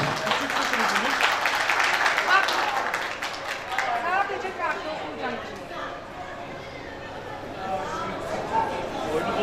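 Applause and cheering from a small group at a surprise gift gathering, strong at first then easing into chatter with voices talking over the tail end.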